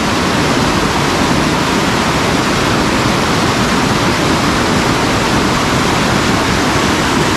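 Water from Barvi dam rushes and foams white near Badlapur, a steady, dense, loud roar of turbulent flow that continues without a break throughout.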